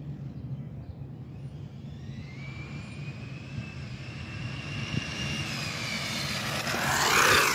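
WLToys 104001 RC car motor on 4S power revving, a rising high-pitched electric whine that climbs steadily and grows louder toward the end.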